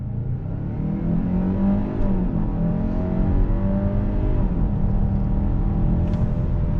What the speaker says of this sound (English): I want to do an on-throttle acceleration from a dead stop